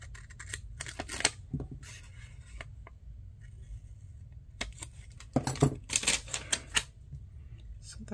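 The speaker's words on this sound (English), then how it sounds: "I'm going to trim it across the bottom." Scissors trimming paper across the bottom of a page in a planner: quiet, irregular crisp snips and rustles in short bursts, close up, with a soft background hum.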